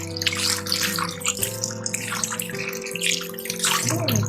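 Tap water runs steadily into a kitchen vessel while raw chicken is washed, a close, continuous splashing gush with faint dripping and sloshing under it.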